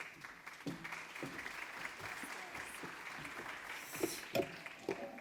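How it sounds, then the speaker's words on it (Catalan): An audience at a conference debate claps, a thin scattering of individual claps with a few sharper, louder ones near the end. "Un aplaudiment, sisplau."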